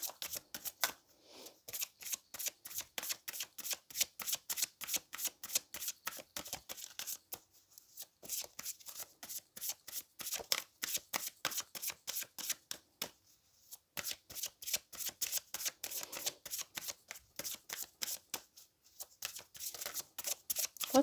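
Tarot cards being shuffled by hand in a long run of rapid, crisp riffling flicks, close and steady, broken by a few brief pauses.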